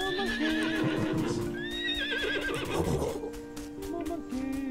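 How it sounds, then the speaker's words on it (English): Black horses in a video game give wavering high whinnies and neighs amid quick clip-clopping hooves, close and loud over a sustained musical drone. "Other black horses are nearby."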